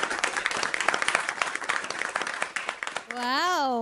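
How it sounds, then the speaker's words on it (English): Warm applause from an audience at a fireside chat, steady clapping for about three seconds before it gives way to a sustained tonal sound at the end. "Let's give her a warm round of applause."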